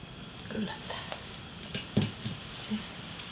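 Beef and vegetable porridge cooking in a pot on a home stove, a soft steady sizzle and bubbling with a few small spoon or chopstick clinks, close and quiet, no talking.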